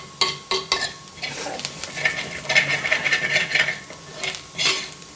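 Spices being stirred and sautéed in a pan for green peas curry, with a spatula scraping and clinking in bursts over a steady close sizzle, no voices.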